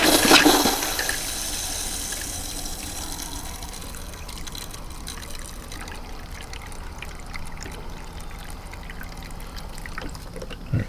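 Water dyed pink with antifreeze runs from a faucet in a Rockwood 2509S travel trailer during winterizing. A loud rushing gush opens the flow, then it settles into a steady, even stream at close range with no talking.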